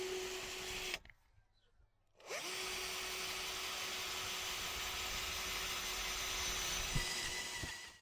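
Power drill boring a hole through a campervan roof: a steady whirring drone runs almost the whole time, broken by a roughly one-second stop near the start, with a couple of sharp knocks toward the end.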